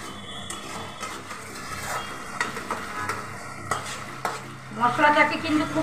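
Spice masala with turmeric and salt is stir-fried in oil for Bengali fish kaliya, with a steady sizzle under repeated scraping and clinking of a spatula against the pan. A louder burst of frying swells near the end, and no one talks.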